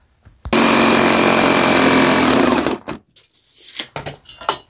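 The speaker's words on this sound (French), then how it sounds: "elle galère un peu, la scie sauteuse, hein, clairement" A jigsaw straining through dense hard wood, a loud close buzzing rattle that runs steadily for a couple of seconds and then cuts off, followed by clattering handling noises and short bursts.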